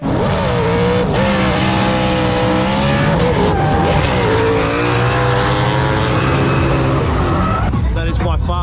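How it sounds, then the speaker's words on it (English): Short-stroke LS V8 drift car revving hard at a drift event, a loud, continuous high-rpm engine howl with rising and falling revs throughout, close by, with people talking over it. "it's by far the best sounding car out here"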